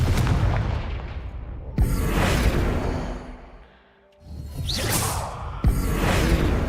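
Confringo spell blasts fired in the Hogwarts Legacy video game: two sharp whooshing bursts with booming impacts, the first near the start and the second after a brief lull, loud and close with no talk.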